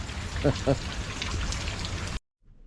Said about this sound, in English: A nice rainy day today.